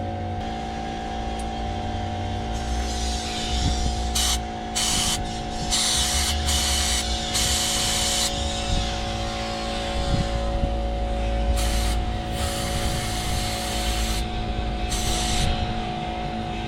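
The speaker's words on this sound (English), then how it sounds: "the brake cleaner kind of broke it up just then. It's spraying me right now." Brake cleaner sprays from an aerosol can onto a sludge-filled, destroyed engine in loud hissing bursts of varying length, heard up close over a constant mechanical hum.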